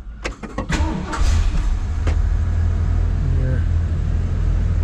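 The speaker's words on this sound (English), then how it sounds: "We'll go ahead and get it started." A 1967 Lincoln Continental cold-starting: a few quick clicks and starter cranking, then the engine catches and settles into a steady, loud low idle, with a brief voice at the start.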